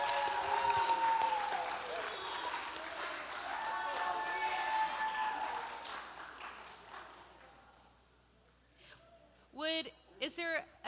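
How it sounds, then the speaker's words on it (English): An audience at an evening session of a church hometown mission week claps loudly in a sustained round of applause that gradually fades out, followed by a voice speaking near the end. "Y'all, that's a massive hand clap."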